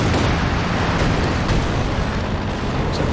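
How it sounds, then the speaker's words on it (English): A howitzer artillery barrage in Company of Heroes 2 rumbles as a dense, continuous roar of blasts, with sharper explosive bursts rising through the thick, loud wash of sound. "I'm looking for a Howie barrage"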